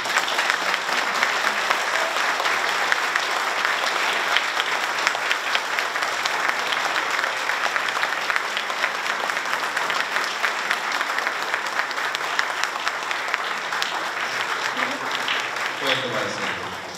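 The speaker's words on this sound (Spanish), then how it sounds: "Con el aplauso de todos ustedes." Sustained applause from the audience at a magistrates' swearing-in ceremony in Chiclayo, a dense, even roar of many hands clapping that continues throughout and tapers slightly at the very end.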